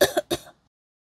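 A person with a cold coughs three times in a quick harsh burst, close and fairly loud, followed by silence.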